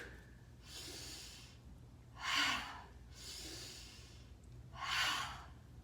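Heavy breathing during a Rock Steady boxing exercise class, with four slow breaths in a row, alternating softer and stronger airy exhales and inhales heard close up in a quiet room.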